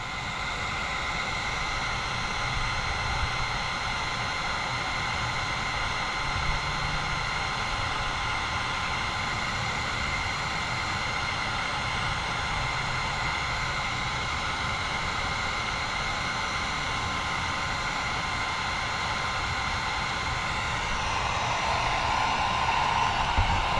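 A heat gun warms a drop gate trailer LED light with a constant, loud airy whoosh and whine that holds steady for the whole stretch, with no voices.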